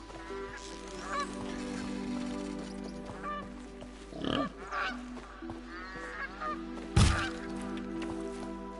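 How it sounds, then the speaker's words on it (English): Geese in Horizon Zero Dawn give several honks, scattered and moderately loud over a steady game ambience, with a sharp thump near the end. "Oh, the goose."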